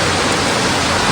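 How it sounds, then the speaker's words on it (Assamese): Steady, loud rain hisses as a dense, even wash of noise throughout the brief moment, with no breaks or separate drops standing out. "এতিয়া বৰষুণ"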